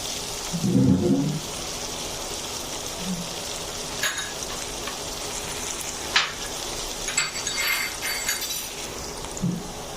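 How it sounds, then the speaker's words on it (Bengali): Oil sizzles and crackles steadily as vegetables fry, with occasional bursts of spattering and a few low knocks from the pan. "আমার কাঁচামরিচ এবং পেঁয়াজ ব্রাউন কালার ভাজা হয়ে গেছে"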